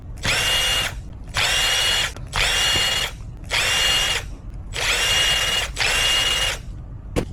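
Power drill whining in six bursts of about a second each as screws are backed out of a Traxxas T-Maxx 3.3 transmission case, steady and close with short pauses between.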